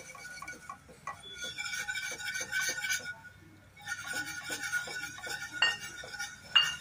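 A mixture is stirred in a pot over a low gas flame as milk goes in bit by bit, with rapid repeated light clinks of a spoon against the pot, close and rhythmic, broken by a brief pause.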